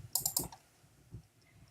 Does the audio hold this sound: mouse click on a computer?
yes